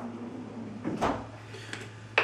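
A spice drawer in a home kitchen slides open or shut with a soft rumbling scrape and a light knock at the end, close by over a steady low hum.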